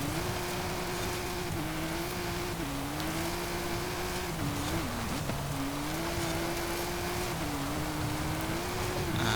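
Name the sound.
Aston Martin Vanquish Zagato engine in Forza Horizon video game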